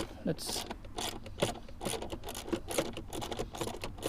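A ratchet loosens a 10 mm bolt at the hood release on a 2015 Hyundai Sonata, giving repeated close clicking and scraping bursts throughout.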